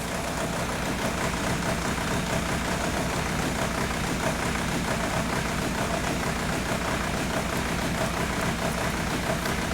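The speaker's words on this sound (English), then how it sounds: "pay attention to the tone of the engine when I do it" A Volkswagen TDI diesel engine, one with a slow-down shudder, idles at a steady, even low rumble with a fine rapid clatter, constant throughout and with no voices.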